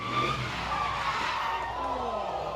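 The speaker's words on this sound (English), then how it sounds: "The driver of this red Mustang sliding inches from spectators" A red Mustang drifting near spectators on a Seattle street, its tires skidding in a loud continuous squeal with engine noise beneath, close and sustained throughout.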